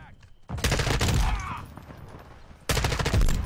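Rapid bursts of automatic gunfire in a Call of Duty match, two loud close volleys separated by a quieter stretch, with faint game sounds between.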